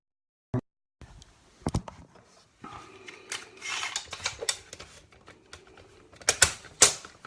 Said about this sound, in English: So I'll just get the tape measure now.